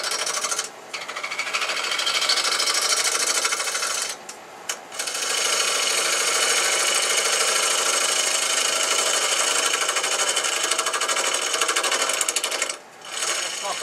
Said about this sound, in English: I'm going to set the lathe for about 400 RPMs, get it spinning, shield up, bring it in.